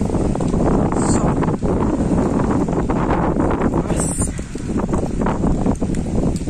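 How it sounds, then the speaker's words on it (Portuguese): Outdoor wind on a cold, sunny day with a blue sky buffets the microphone in a constant, loud rumbling roar that rises and falls in gusts, with no talking. "Nossa. Tá ventando bastante."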